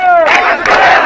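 Students at an anti-quota reform protest on a university campus chant slogans together, a loud, close crowd of voices in short rhythmic bursts that starts right after a single voice leads off.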